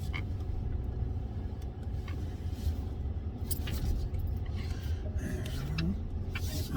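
An old Dodge truck idles and creeps into a parking spot, a steady low engine rumble running throughout with a few faint higher squeaks and clicks on top, no voices.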